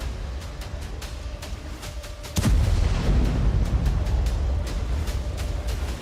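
A rocket strike on apartment buildings in Ashkelon, Israel, sets off a sudden heavy blast partway through, then a loud rumbling roar that lasts, with sharp cracks going off repeatedly before and after.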